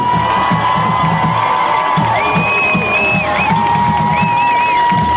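High-school football crowd in a stadium cheering for senior players, a steady dense roar of cheers and whoops with whistle-like tones, continuous and loud throughout.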